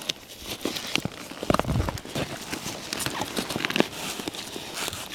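Hooves of a saddled pack horse clop in irregular steps close by, each strike faint to moderate against outdoor background noise, with no talk over them.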